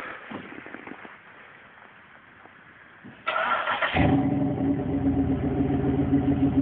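A Pontiac Grand Prix GXP with an LS4 V8 and its exhaust resonator removed starts up, settling from a quieter background hum into a loud, steady, deep idle close by.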